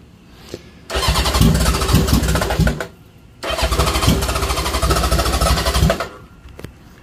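Honda engine starting and idling low in two loud bursts, each about two seconds long, with a steady rapid mechanical chugging, separated by short pauses, near and alone.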